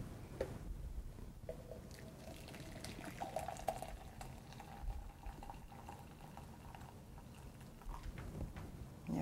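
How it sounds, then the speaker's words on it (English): Coffee poured into a container, about 300 milliliters, for a cooling experiment with temperature probes; a soft, steady liquid splash and trickle runs throughout, fairly quiet against a noisy room. "And then we'll pour our coffee, about 300 milliliters in each container."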